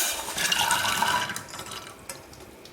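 Water is poured into a pressure cooker over soaked mochai beans, giving a close, steady splashing pour that fades near the end.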